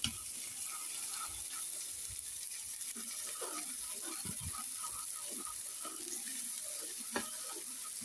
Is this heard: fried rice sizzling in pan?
yes